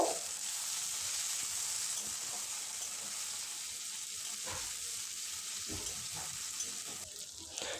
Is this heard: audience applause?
no